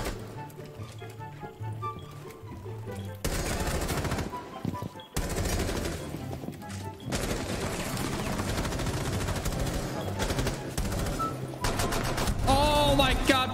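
Rapid bursts of automatic gunfire in a Rainbow Six Siege match, loud and sustained in dense volleys with brief pauses, mixed with game effects.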